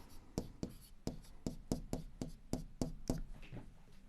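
Chalk or pen writing an angle equation on a board, a steady series of short crisp taps and strokes about every quarter second, close and faint, with no voice over it.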